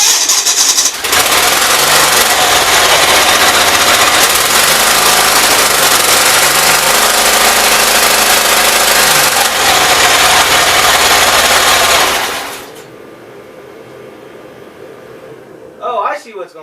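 A rebuilt 450 motorcycle engine, running on only one cylinder, roars loudly and unevenly on its first start with the intake gasket out of line, then cuts off abruptly, leaving quiet background and a brief clatter.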